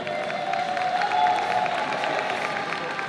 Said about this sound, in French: Donc on peut les applaudir bien fort.